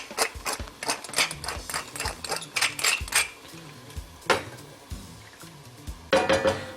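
Metallic clatter from a lid and soup pot while French onion soup with beef broth is prepared, a string of close, uneven clinks and taps ending in a louder cluster of rattling contacts.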